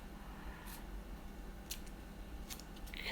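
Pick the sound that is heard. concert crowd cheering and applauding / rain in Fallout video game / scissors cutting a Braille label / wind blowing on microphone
scissors cutting a Braille label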